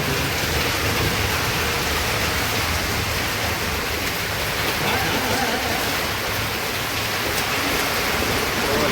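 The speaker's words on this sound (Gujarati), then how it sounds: "ભર ઉનાળા કેવો વરસાદ પડે" Heavy summer rain pours down in Savarkundla, Amreli district, a dense, loud, unbroken hiss of downpour filling the scene from start to finish.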